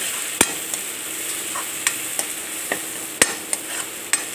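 Crushed ginger and garlic sizzle among frying vegetables as a spoon stirs the pan, with a steady hiss broken by sharp scraping clicks and taps at irregular intervals, close and without speech.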